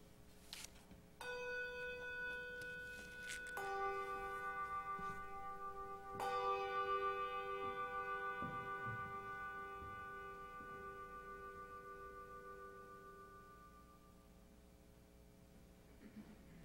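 Church bells ring out in overlapping, sustained tolls, each strike blooming into long ringing harmonics that slowly decay; fresh strokes land at steady intervals, loud and resonant, with no voices over them.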